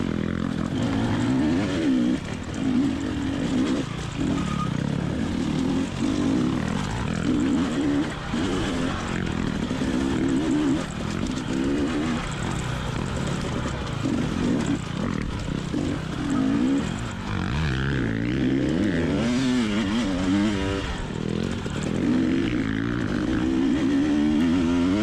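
A dirt motorcycle engine drones and revs continuously while climbing steep, technical dirt-track hills, the throttle held smoothly with rising and falling pitch, loud and close, with no speech over it.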